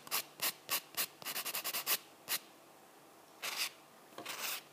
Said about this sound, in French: Je reprends mon petit bloc blanc. Je vais matifier